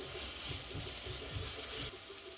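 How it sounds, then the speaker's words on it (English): Onions seasoned with a pinch of salt frying in a pan, a steady close hiss with faint stirring scrapes, cutting off abruptly near the end. "Now we're going to cook the onion until they turn translucent"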